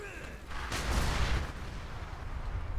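A wall being destroyed in the Rise of Legends strategy game: a deep, rumbling crash swells and fades over about a second, then low battle rumble continues, with a brief voice near the start.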